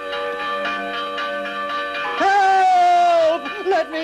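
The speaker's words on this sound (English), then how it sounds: "Ring the bell." A church bell in a 1973 film scene rings with a sustained, ringing tone, then a loud voice breaks in over it with a long shout.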